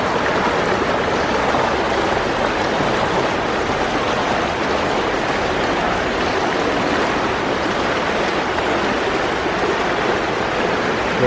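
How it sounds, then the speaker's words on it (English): River water rushes through an underground culvert of the River Medlock, a loud, steady, broadband roar that echoes evenly for over ten seconds with no voices or breaks. "the rushing water sound we could hear, is the fact that the river just gets a little bit faster here"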